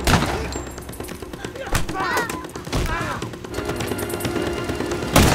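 Gunfire from a Korean war film scene erupts in dense bursts over a loud, busy battle soundtrack, with shouting voices and explosions mixed throughout.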